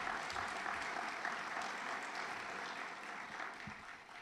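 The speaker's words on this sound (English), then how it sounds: "Can you please give a round of applause to all of our donors?" Steady round of audience applause for donors at a teacher of the year awards ceremony, a continuous even wash of many hands clapping at a moderate distance that slowly fades.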